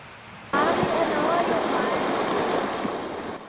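Floodwater rushes steadily along the overflowing Mariano River in Biñan, swollen by heavy rain and choked with water lilies, a broad continuous roar that starts abruptly and stays loud and close throughout.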